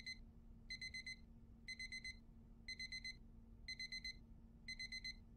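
Alarm clock ringing in the game The Detective Chapters: six evenly spaced bursts of rapid high beeping, each a quick cluster of tones, repeating steadily over a low constant hum.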